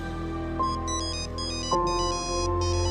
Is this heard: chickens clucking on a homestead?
no